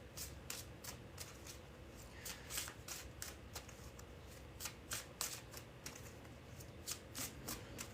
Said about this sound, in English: I must shuffle the cards back into the deck